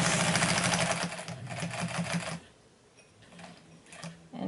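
A 1953 Singer 306W sewing machine runs loudly up close with a rapid mechanical rhythm under foot-pedal control, then eases to a quieter, slower whir before picking up again.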